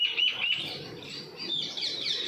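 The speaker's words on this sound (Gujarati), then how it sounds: "ચકલા ચકલીનો અવાજ કેટલો આવે છે" Sparrows chirp busily on a morning street, high bright calls overlapping almost without pause at close to mid distance, with no one speaking.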